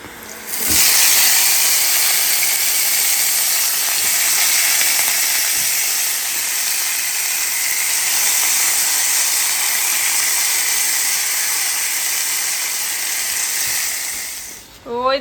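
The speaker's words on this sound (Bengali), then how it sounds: "আমি কড়াইয়ে একটু লবণ হলুদ দিয়ে তেলে ডিমগুলো দিয়ে দিলাম ছেড়ে" Boiled eggs fry in oil with salt and turmeric in a wok, making a loud, continuous hiss and sizzle that runs close up for the whole stretch, then fades near the end.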